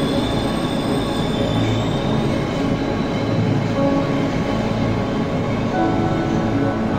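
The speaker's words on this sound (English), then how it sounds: "Oh, there's a train!" Train passing in the horror video game Cry of Fear, a continuous dense rumble of rolling railcars with faint clacking and squealing wheels, steady and fairly loud throughout.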